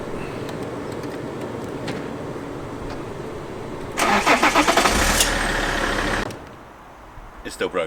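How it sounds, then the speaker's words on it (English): An Alfa Romeo 159 engine cranks and fires up midway, roaring briefly before settling into a quieter idle; background hum before it. "I'm going to start the car."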